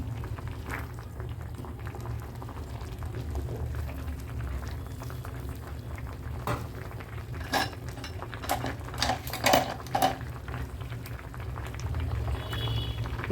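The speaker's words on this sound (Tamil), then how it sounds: "வெந்துக்கிட்டு இருக்குது தக்காளியெல்லாம்" Tomatoes cooking in a pan for spicy kara chutney, with a steady bubbling, simmering bed and scattered metallic clinks and scrapes of a utensil, close up and moderately loud, with no talk.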